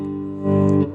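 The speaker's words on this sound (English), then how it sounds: "like a little less reverb and a little more gain and a Marshall kind of amp" An electric guitar patch with added gain and a Marshall-style amp tone, with little reverb. One sustained, slightly distorted chord rings out and swells louder halfway through, played alone without talk.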